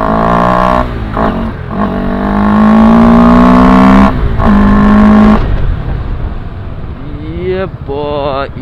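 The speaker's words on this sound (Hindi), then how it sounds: "यार क्या ट्रैफिक हो गया" A motorcycle rider moves through road traffic. Wind buffets the microphone, and nearby vehicle engines and horns rise and fall. Someone talks over the noise at times.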